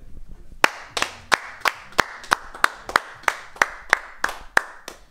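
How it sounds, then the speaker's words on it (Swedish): Outdoors on a hiking trip, a single pair of hands claps about fourteen sharp, evenly spaced times, fairly close and alone without talk. "Stor applåd!"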